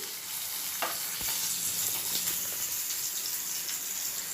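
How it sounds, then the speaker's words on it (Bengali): Steady sizzling and crackle of onions frying in a pan, moderately close, with a few light clicks; no one talks. "এখন পেঁয়াজটা ভাজছি"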